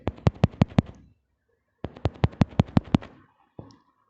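Gunfire from the Brawl Stars video game comes in two quick bursts of about five to six sharp, evenly spaced shots each, separated by a short pause and followed by one fainter shot.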